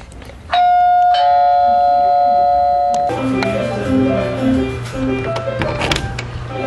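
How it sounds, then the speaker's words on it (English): A loud electronic doorbell in the game Webkinz chimes twice in quick succession, followed by a melodic tune with a steady low hum beneath it. "Oh, there's a doorbell, huh?"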